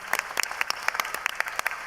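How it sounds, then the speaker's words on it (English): A live convention crowd at a Dungeons & Dragons stage show gives a round of applause, loud sharp claps close by with distinct individual hand strikes standing out in the dense clapping. "Give yourselves a huge round of applause"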